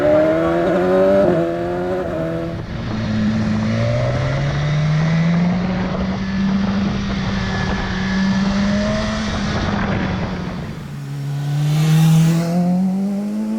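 A 2018 BMW S1000XR sport-touring motorcycle revs loudly and close, its engine note climbing and falling through several gear changes with intake growl and exhaust pops.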